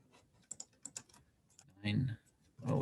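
Typing on a desktop computer keyboard: a run of quick, light key clicks, followed by two louder, denser bursts of keystrokes close to the mic.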